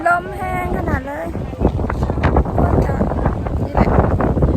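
Strong wind buffeting the microphone on a seaside bridge in Bangkok, a steady roaring rumble with gusts, while someone speaks over it at the start.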